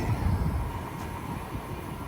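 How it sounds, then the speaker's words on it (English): A Caltrain local train pulls away from Menlo Park station on a hot day, a low rumbling roll that is loudest at first and then eases into a steadier drone. "Alright folks, train is off to San Jose"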